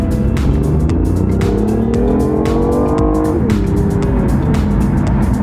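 BMW i8 engine revving up through the rpm range while driving, then dropping sharply at a quick gear shift, loud and close with steady road and cabin noise.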